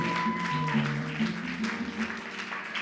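Steady applause and cheering from a church congregation at an ordination service in Poitiers, with a held tone from instruments or voices running underneath.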